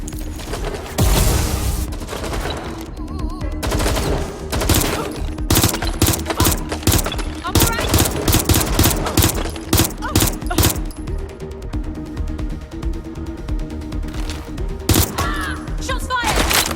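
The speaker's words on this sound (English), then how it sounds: "Shots fired!" Sustained gunfire in the video game Watch Dogs: Legion, with rapid bursts and heavy shots repeating throughout over a dense game soundtrack, loud and close, with some game voices.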